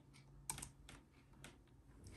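A few crisp, quiet key presses on a Logitech MX Keys wireless keyboard, one sharper Enter tap standing out, with soft room hiss between them and no talking.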